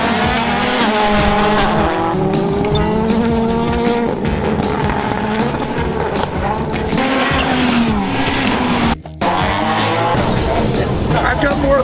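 A rallycross race car at an NRX event tears around a track, its engine note rising and falling in loud sustained surges with a brief cut near the end, while people talk over it.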